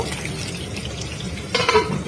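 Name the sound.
pabda fish frying in oil in a wok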